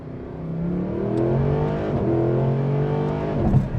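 A Mercedes-AMG SLS Black Series sports car engine revs at half throttle and holds a strong, rising growl nearby, with shifting harmonic tones and a brief burble as the throttle eases.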